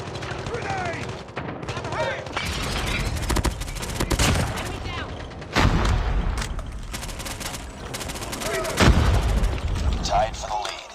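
Call of Duty multiplayer battle with steady gunfire bursts and grenade explosions, dense and loud throughout, with game announcer voices and callouts underneath the shooting.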